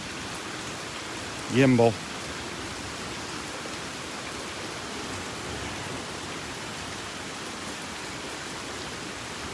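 Steady rain falls on a beach at Delnor-Wiggins on a wet morning walk, a constant hiss running the whole way through, with one brief voice near the start.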